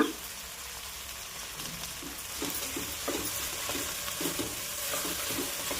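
Chopped okra sizzles in a hot pan while being stirred, a steady frying hiss with periodic scraping knocks from the spatula, loud and close, with no talking.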